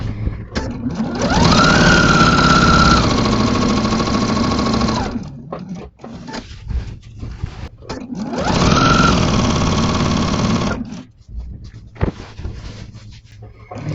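A sewing machine fitted with a walking foot stitches through a quilt in two fast, steady runs of several seconds each, loud and close, whirring up to speed and stopping, with quieter handling noises between the runs.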